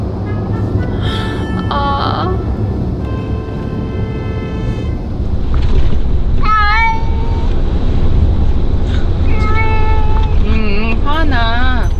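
A cat meows several times with drawn-out, wavering cries, separated by pauses, over a steady low rumbling hum.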